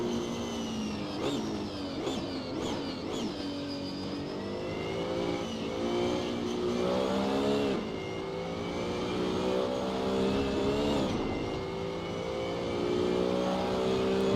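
A race car in the sim game Assetto Corsa at Imola screams through high revs and drops through downshifts under hard braking from around 250, the engine note loud and continuous with no talking.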